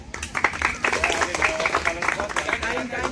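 A crowd claps together at a village Independence Day celebration after a minute of silence, a dense, steady patter of hands lasting about three seconds, fairly close and continuous.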